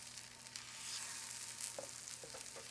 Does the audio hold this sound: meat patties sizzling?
yes